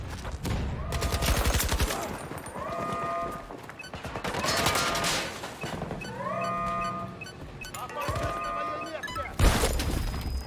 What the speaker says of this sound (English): I knew the grenade was going to get me